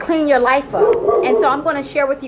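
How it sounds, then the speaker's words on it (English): Outdoors, a neighbor's dog barks and yips in short bursts from a distance, partly under a person talking nearby. "I'm outside, so that's my neighbor's dog."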